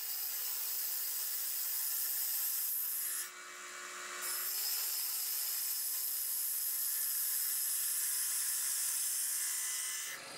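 A wood lathe turns a bowl held between centers while a gouge shapes its outer wall, giving a steady, close hiss of cutting that eases off briefly partway through before resuming.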